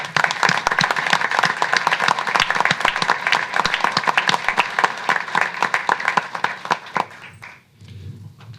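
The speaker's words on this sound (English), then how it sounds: "let's give them a round of applause for serving" Sustained audience applause for military veterans at a township meeting, dense clapping from a crowd that holds steady for about seven seconds before tapering off into room noise.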